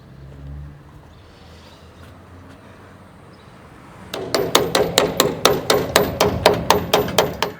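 Metal roof sheeting rings out with a rapid series of sharp, loud clanking strikes as its nuts and bolts are tightened, following a quiet stretch of faint background noise; the hits come in an even, repeating rhythm.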